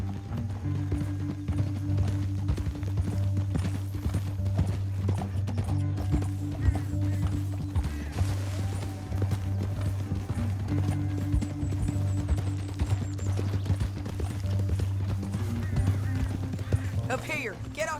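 Horses' hooves clip-clop steadily through Red Dead Redemption 2 gameplay, a regular rhythmic trot running the whole time beneath a droning musical score, with characters speaking over it.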